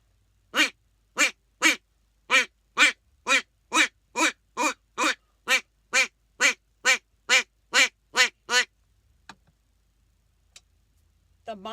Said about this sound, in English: A duck call.